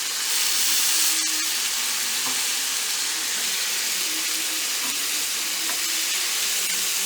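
Scallops sear in a hot pan for a risotto, giving a loud, steady, broadband sizzle and hiss that continues without a break, close up, with no talk over it.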